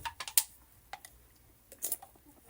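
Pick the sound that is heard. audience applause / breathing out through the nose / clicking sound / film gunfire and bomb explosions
clicking sound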